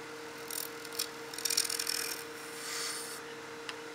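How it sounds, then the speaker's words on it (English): A spindle roughing gouge cuts an Alumilite pen blank spinning on a wood lathe, giving a faint scraping rasp in short uneven bursts over a steady motor hum. "we'll use the spindle roughing gouge to get rid of the bulk of the material"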